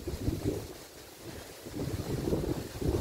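Loud, cold wind sweeping over a grassy ridge-top clearing, rumbling and buffeting the microphone in uneven gusts that drop briefly, then swell again, with no one talking.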